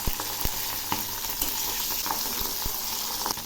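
Fish pieces sizzle in hot mustard oil in a pan after being turned over, a steady crackling hiss with occasional soft taps and pops, close and even, no talking.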